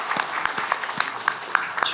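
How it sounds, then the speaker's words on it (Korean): Church congregation clapping together during a Sunday worship service, scattered hand claps with irregular sharp peaks, moderately close and fairly quiet, a short two-second burst without talk. "주님을 영광의 박수로 함께 드리겠습니다."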